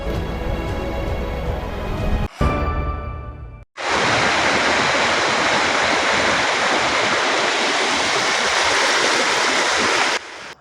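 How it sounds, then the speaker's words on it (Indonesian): Flash-flood water rushes through an area of Bandar Lampung after heavy rain, a loud, continuous broadband roar that goes on for several seconds after a brief, cut-up start. "hujan lebat pada Senin pagi juga menyebabkan banjir di sejumlah daerah di Lampung Selatan"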